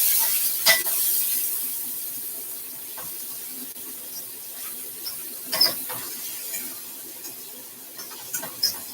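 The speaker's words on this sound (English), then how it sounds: "So I'm just going to saute this in my frying pan for a minute or two." Soft, steady sizzling of vegetables sauteing in a frying pan, with occasional light clicks and stirring scrapes, fairly quiet and close.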